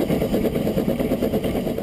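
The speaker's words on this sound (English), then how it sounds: "Engine number four is still steaming hard as it makes the climb" A steam locomotive on the Isle of Man's Douglas to Port Erin line works hard up a steep gradient, a loud, steady chuffing and mechanical rumble heard close from the cab.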